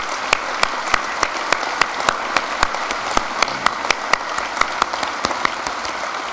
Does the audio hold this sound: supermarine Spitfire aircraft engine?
no